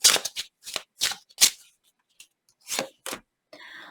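Tarot cards are shuffled in quick bursts of crisp riffling and slapping, several short close strokes separated by brief pauses, with no talking.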